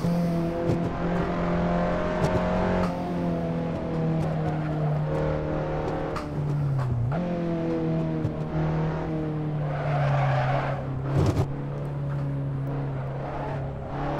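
Simulated Abarth 500 lapping the Nordschleife in the Assetto Corsa racing game, its steady engine drone running continuously under a loud wash of tyre noise and squeal, with brief shifts in pitch as it brakes and accelerates.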